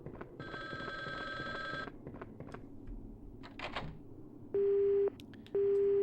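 A phone busy signal from the Resident Evil Survivor video game cuts in near the end as two steady, loud tone bursts, after a stretch of mixed game sounds and electronic beeps.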